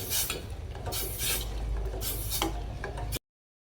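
A spoon scrapes and stirs jaggery dissolving in water in a metal pot, rhythmic rasping strokes close by, ending abruptly in silence.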